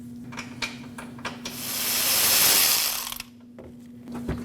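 A ratchet wrench works loose a 10mm nut in the engine bay of a 2014-2023 Jeep Cherokee, giving close, rapid clicking bursts around a longer whirring spin, with a steady hum underneath.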